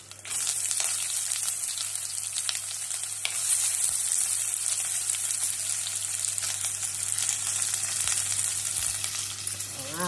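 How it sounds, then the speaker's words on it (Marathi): Chopped onion frying in hot oil with hing and spices for Karnataka-style avarekai pulao, a loud steady sizzle filling the whole stretch with faint stirring scrapes, no talk. "आता कांदा घालायचा."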